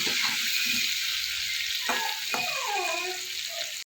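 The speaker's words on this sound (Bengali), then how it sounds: "ভালো করে চালটা কিছুটা ভাজতে হবে।" Rice grains frying with turmeric in a pan, a loud continuous sizzle and hiss up close, with a few scraping stirs partway through.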